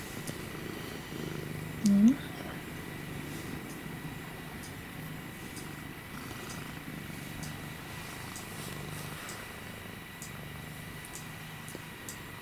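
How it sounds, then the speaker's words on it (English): A house cat purrs steadily and softly close by in a quiet room, a low continuous rumble with a brief murmured voice near the start. "I really hope the camera picks up all that purring."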